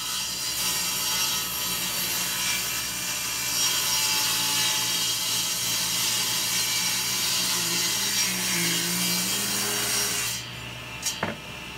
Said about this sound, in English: I'm gonna cut the rounded corners off of here